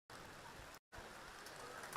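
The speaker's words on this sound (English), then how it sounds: "the rain continues to get heavier here at Havelock Park" Heavy rain pours down on an outdoor rugby match at Havelock Park, a steady, dense hiss that drops out for a split second and then resumes, with no one speaking.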